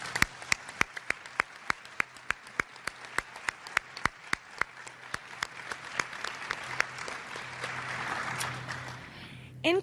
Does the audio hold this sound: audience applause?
yes